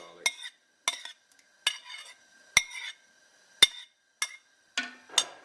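Mustard, brown sauce and garlic go into a pot for pressure-cooker brisket, heard as a series of sharp metal clinks and scrapes of a utensil against the pot, spaced irregularly with quiet gaps between.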